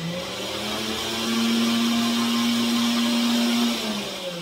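Nutribullet blender combo running on its extract setting, a loud steady motor whine that swells and holds, then eases off near the end, close and continuous with no talking.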